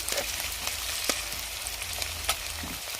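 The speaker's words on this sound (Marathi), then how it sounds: "लोखंडी कढईमध्ये तेल घालून घ्यायचं आहे. त्यामध्ये जिरे आणि मोहरी घालायची आहे." Cumin and mustard seeds frying in oil in an iron pan give a constant sizzle, broken by a few sharp pops and clicks, heard close with no speech.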